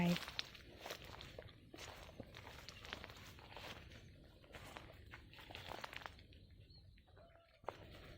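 Footsteps crunch steadily through a garden with a drip-irrigation setup, a quiet, close shuffling rhythm over dry ground with faint birdsong in the background.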